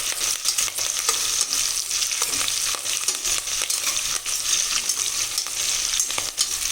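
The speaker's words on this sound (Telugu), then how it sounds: "ఇది కొంచెం వేగిందని అనుకోండి, బాగుంటుంది, కమ్మగా ఉంటుంది అన్నీ వేగితే." Onions and vegetables frying in a pressure cooker for simple khichdi give a dense, loud hiss and crackle, close up, with occasional sharp ticks of stirring running through.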